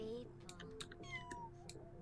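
Cats in the My Little Sims video game meow several times in quick succession, high drawn-out calls close up, mixed with a person talking.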